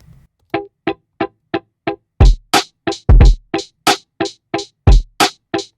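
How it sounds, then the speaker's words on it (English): Short, crisp guitar chops played exactly on the grid, on a steady, evenly spaced pulse, with heavier percussive hits joining partway through; no voices. "If the guitar was on the grid, this is what it would sound like."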